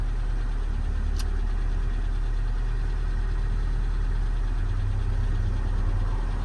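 A car engine idles at a steady, continuous low hum with a faint whine above it, unbroken throughout, recorded close up with no voices.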